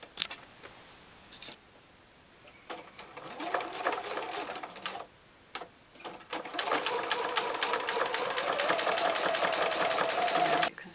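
Domestic sewing machine stitching along the top edge of a fabric patchwork bag, a fast steady mechanical whirr that starts, pauses briefly, then runs continuously and fairly close, with no talking.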